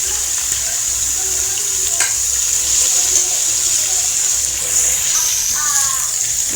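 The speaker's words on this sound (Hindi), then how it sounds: "तेल गरम हो गया हमारा और इसमें हम लहसुन अदरक कर रहे हैं ब्राउन" Garlic and ginger brown in hot oil for a chicken tikka karahi, giving a steady, loud sizzle and hiss that keeps going without a break from start to finish.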